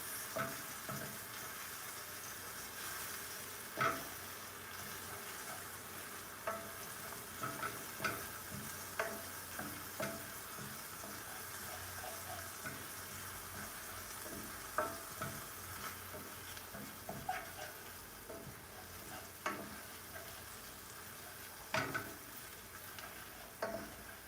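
Onions and other vegetables for a vegan chickpea curry sizzle softly in a pot as they are stirred, with scattered spoon clicks and scrapes standing out over a steady low frying hiss.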